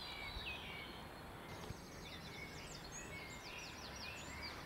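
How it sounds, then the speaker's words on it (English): Faint birds chirp and twitter in rapid little trills over a steady hiss of outdoor background noise, distant rather than close. "We can even listen to the birds chirping away."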